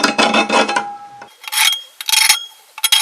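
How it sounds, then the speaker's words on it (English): A sheet metal compass scribing a 14-inch circle onto sheet metal for rims of an 84-year-old dumper, giving several short scratchy rasping strokes with brief pauses between them, close and fairly loud. "I laid my compass, my sheet metal compass, I laid it out for 7 inches, put it on my center spot right here on that center mark"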